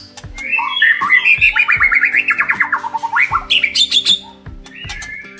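A captive white-rumped shama (murai batu) sings loudly and close, pouring out a rapid run of rich whistled and rattling notes with fast repeated trills, then a few shorter calls at the end.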